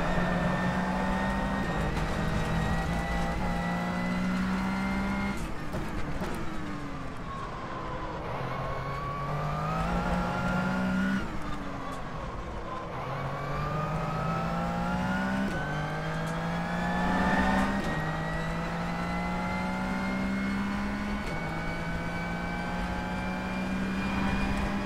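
A race car roars around Sebring during the final lap of a 12-hour endurance race in rFactor 2, its engine revving up and down through repeated gear shifts, loud and close with no voices.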